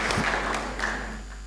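A church congregation breaks into brief scattered applause, a few claps rising then fading within about a second, with no talk over it.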